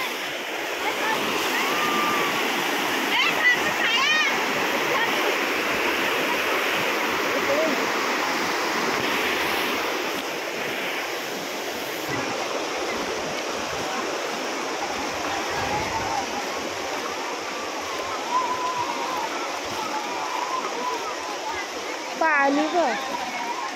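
Water rushes steadily at Pabhare dam, a broad continuous roar like a waterfall or spillway that fills the scene, with people talking faintly in the background.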